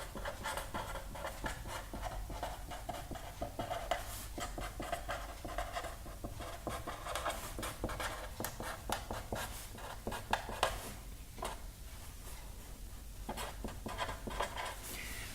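Topics being written on a board during an electronics lecture, a run of quick scratching and tapping strokes, close and fairly faint, with pauses between bursts.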